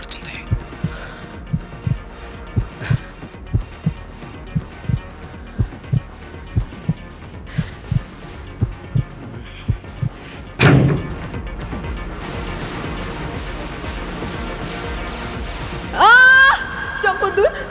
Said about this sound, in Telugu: నీ గుండె చప్పుడు కూడా నాకు వినపడుతుంది.